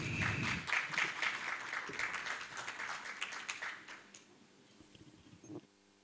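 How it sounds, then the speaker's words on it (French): An audience greets Monsieur Domoro with clapping at a formal gathering, a dense burst of applause that thins out and fades over several seconds, with some faint voices underneath. "Monsieur Domoro, qu'on acclame très fort, s'il vous plaît"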